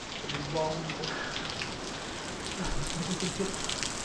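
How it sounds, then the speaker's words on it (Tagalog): Heavy rain pours down as a steady, dense hiss, with faint voices briefly audible beneath it. "grabing ulan dito guys"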